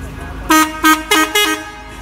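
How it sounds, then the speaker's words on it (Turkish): Four short honks from the horn of a VW Golf Mk2, loud and close, in a quick uneven burst over a quiet background. "Bir de korna sistemi vardı bu arabada."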